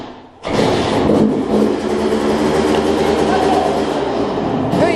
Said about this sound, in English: And now we're going to start her up.